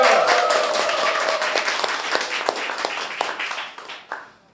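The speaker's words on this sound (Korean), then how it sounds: "박수 한번 쳐주시죠" A crowd at a campaign office opening ceremony gives lively applause, with close, distinct claps over a dense background of clapping that gradually thins out and fades near the end.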